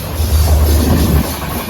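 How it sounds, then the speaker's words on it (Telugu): Bilaspur Superfast Express passing on the third line, a loud steady low rumble of rolling wagons heard close by, easing slightly after about a second with hiss continuing. "Bilaspur super fast express crossing"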